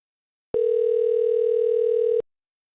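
A single steady telephone tone sounds on a call placed to a phone scammer, a clean, even electronic hum lasting under two seconds between silence.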